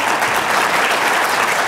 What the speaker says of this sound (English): Let's give everybody a round of applause once again